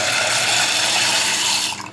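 Water pouring steadily into a pressure cooker, a loud continuous splashing rush that tapers off near the end, no voices.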